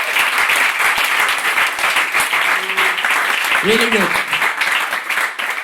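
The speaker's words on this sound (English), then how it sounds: "So, big applause to them," Sustained applause from a bootcamp demo-day audience in Milan, dense steady clapping throughout with a short spoken comment rising briefly above it.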